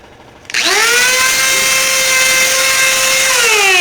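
A power drill whirs up and spins at high speed, a steady loud motor whine with bright overtones that holds for several seconds.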